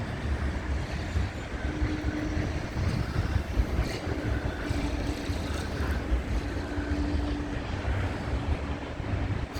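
An airplane passing overhead near the Blackpool seafront on a warm morning, a broad steady roar under wind and distant surf, moderately loud and continuous with no talk.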